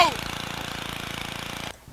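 A lawnmower engine in the Happy Wheels video game runs with a steady, buzzing pulse for almost two seconds and then cuts off abruptly. There is no talk over it.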